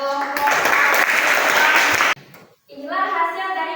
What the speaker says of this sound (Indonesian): silakan kita beri tepuk tangan kepada kelompok.